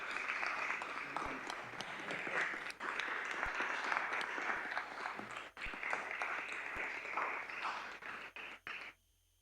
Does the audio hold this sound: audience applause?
yes